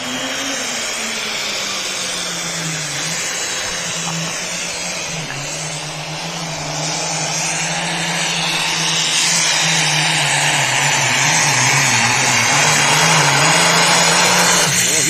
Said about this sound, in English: this tractor here is one of them that just squats down and you just start seeing it